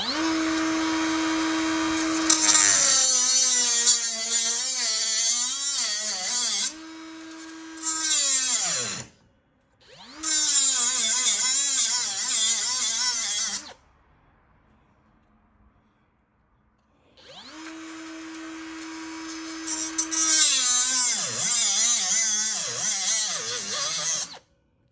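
A power tool cuts through a gun grip near the old thumb hook, its high, whining drone running in three long bursts with sharp pitch dips as the blade bogs into the material, separated by short gaps of near silence.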